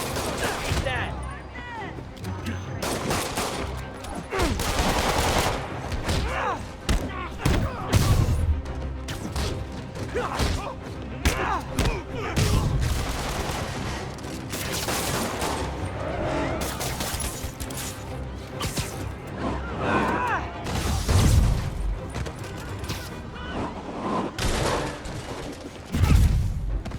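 Gunfire in the Marvel's Spider-Man video game, with repeated bursts of shots, crashes and thuds in a busy, loud fight that runs continuously, and someone talking over the action.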